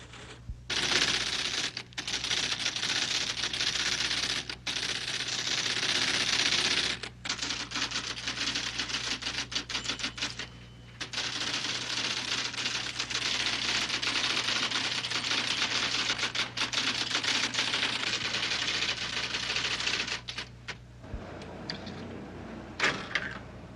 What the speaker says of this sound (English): devotees retype the text on computerized machines that transfer each typed letter into an electronic code